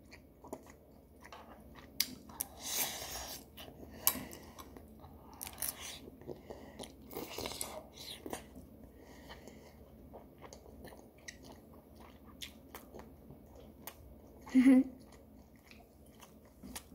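Someone eats spicy tteokbokki cooked with meat, giving soft intermittent chewing and biting sounds close to the microphone in a quiet room, with a brief louder burst near the end.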